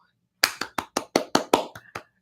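Eight sharp, evenly spaced hand claps ring out close and loud in a slow, deliberate sarcastic rhythm, the last few lighter, with no talking over them.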